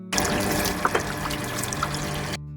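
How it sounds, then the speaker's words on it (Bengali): Rice is rinsed in water, a close and fairly loud sloshing and trickling that carries on steadily before stopping abruptly near the end. "চালটা ধুয়ে নেওয়া হচ্ছে।"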